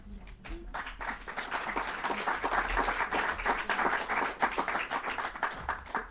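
A room full of people at a French literary prize ceremony applauds steadily for several seconds, a dense patter of clapping at moderate distance.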